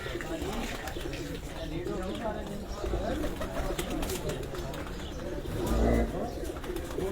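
Punjab top-flight pigeons kept by a breeder coo steadily beneath a voice, amid constant background bustle, with a louder swell near the end.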